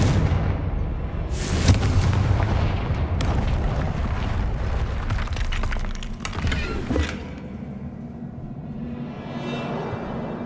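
A blasting-spell explosion in the Hogwarts Legacy video game, loud booming and crackling blasts over a dense rumbling game soundtrack, with sharp impacts in the first seconds before settling into a steadier low roar.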